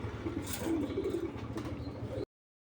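Racer pigeons, flying birds kept on a pigeon farm, give a steady low cooing for about two seconds, close and moderately loud, with no one talking over it.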